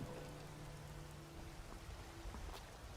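Steady rain falls in the fantasy video game Skyrim outside the city of Whiterun, a dense, even hiss of drops on surfaces throughout, with no talk over it.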